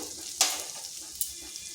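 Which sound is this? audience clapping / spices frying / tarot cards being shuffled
spices frying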